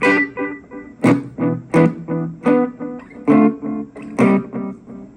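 Electric guitar played in short bursts through a Shark Draft Time DL-1 delay pedal, the repeating echoes sounding a little brighter and crisper after each phrase.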